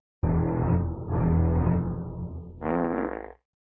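A long, loud fart stretches across about three seconds in several blaring, rumbling bursts, ending in a rougher, buzzier blast, heard close and on its own.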